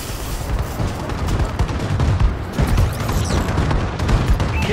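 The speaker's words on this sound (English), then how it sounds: "Bombing run incoming!" Heavy explosions from a bombing run rumble continuously in Call of Duty: Advanced Warfare, with dense low booms and scattered crackling blasts that swell and roll over nearly five seconds without a pause.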